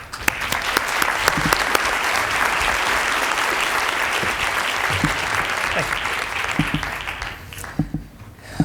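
An audience claps to welcome a lecturer at a lecture event, sustained, dense applause filling the room for several seconds before thinning out and fading at the end.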